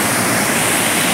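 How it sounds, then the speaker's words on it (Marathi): Sawatkada waterfall near Murud roars loud and close, a dense, unbroken rush of falling water with no other sound over it. "खतरनाक धबधबा वाहतोय"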